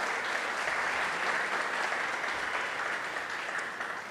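Loud, sustained applause from a church congregation praising Jesus at a night service, many hands clapping together in a thick, even roar that eases slightly toward the end.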